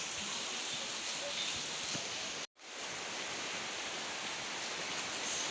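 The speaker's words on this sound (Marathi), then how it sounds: "किती पाऊस पडतोय बघू शकता." Heavy rain pours down in a dense, even hiss that stays steady throughout, broken only by a brief cutout midway.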